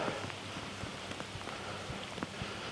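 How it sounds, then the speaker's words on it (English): Steady rain falls outdoors with a soft continuous hiss and scattered faint drop taps, fairly quiet and without talk. "I think it's going to start raining a little heavier. You can hear it this time."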